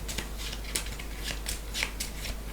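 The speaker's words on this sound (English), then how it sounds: "Finally, shuffle the discard pile" Game cards from a discard pile are shuffled in a solo tabletop session, giving a close, papery riffling and flicking with several sharper snaps spread across a couple of seconds, with no talk over it.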